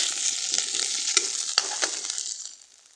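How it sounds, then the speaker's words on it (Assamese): Cumin seeds, bay leaves and boiled potatoes fry in hot oil in a pan, a close, loud continuous sizzle with a few stirring scrapes, fading away toward the end. "গোটা জিৰা কেইটা ফুটি লোৱাত মই ইয়াতে দুখিলা তেজপাত দি দিম।"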